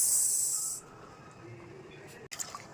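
Hot water poured into a pan of spicy mutton curry with fried potatoes bursts into a loud, sharp steam hiss. It cuts off after under a second, leaving quiet kitchen noise and a couple of small clinks.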